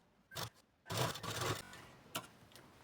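A sewing machine runs a straight side seam on a blouse in short bursts, a quiet whirring stitch with a brief start, a longer run of about a second, then a few faint taps.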